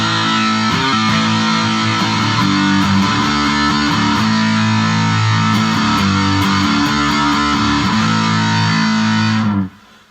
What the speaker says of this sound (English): what I'm going to do is kick on my fuzz on top